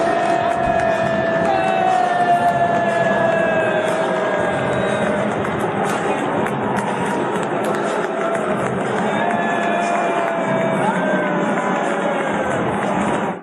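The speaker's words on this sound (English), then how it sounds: "Here is another angle of Donald Trump getting booed as he takes his seat with some of his guests right there at the Arthur Ashe Stadium for the men's final" A large crowd at Arthur Ashe Stadium during the US Open men's final booing Donald Trump as he takes his seat, a dense sustained roar of many voices filling the stadium, loud and continuous throughout.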